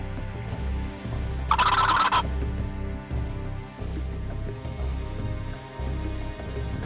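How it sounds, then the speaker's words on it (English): A wild turkey gobbles once in a short, rapid burst over a constant low engine-like rumble. "we got another one gobbling"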